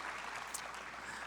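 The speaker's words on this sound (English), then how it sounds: "Let's give a round of applause to Pak Dino and friends." Conference audience clapping, a brief burst of steady applause from a crowd filling the room at moderate volume.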